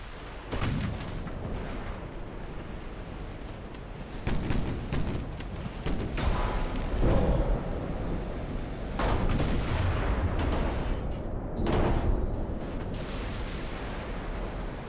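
Warship naval guns fire repeatedly in the Ultimate Admiral: Dreadnought naval battle game, a sustained series of heavy booming salvos with rumbling echoes that roll continuously and loudly throughout.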